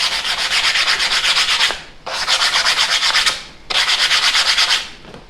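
Three long strokes of sandpaper rubbing along a wooden dowel, each a steady rasping swish with short pauses between, close up and alone.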